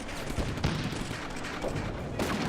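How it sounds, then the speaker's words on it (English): German mortar shells explode in the World War II strategy video game Combat Mission: Afrika Korps, heard as a few faint, muffled blasts and crackling gunfire-like bursts amid continuous distant battle noise. "the mortars are dropping. I think that's a mortar. German mortar."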